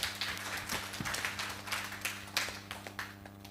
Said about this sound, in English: Clap for them as they come.